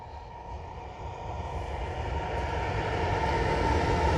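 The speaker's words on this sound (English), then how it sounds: "Tail end of CSX G310, northbound at the south end of Kelly, Kentucky, on the CSX Henderson Subdivision." A northbound CSX freight train rumbles past on the Henderson Subdivision near Kelly, Kentucky, a steady loud roar of rolling cars with a faint high whine, growing slightly louder, with no talking.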